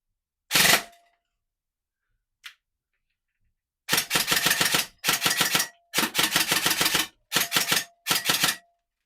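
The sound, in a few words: airsoft submachine gun firing BBs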